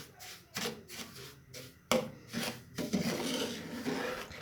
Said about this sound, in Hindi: अब मैं घी डालकर इसको भून रही हूँ।